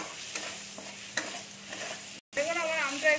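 Mango being stirred with salt and turmeric in a pan over a soft, steady sizzle, with a few scraping strokes of a spoon, close by.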